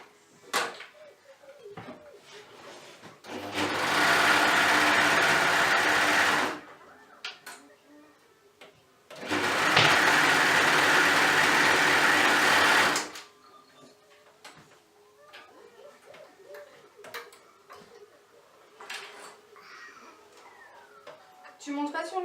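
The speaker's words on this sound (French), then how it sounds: "Je viens coudre ça soit à la surjeteuse, soit au point droit ou au point extensible de ma machine." A sewing machine stitches a garment seam in two sustained, buzzing runs of about three seconds each, separated by a quiet pause, with quieter handling and faint voices before and after.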